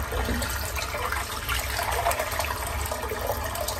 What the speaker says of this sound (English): let's just fill the sink up again